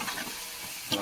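Onion frying in oil in a cooking pot for tempering, a soft continuous sizzle close by, brief and fairly quiet, with a slight stir or clatter at the very end.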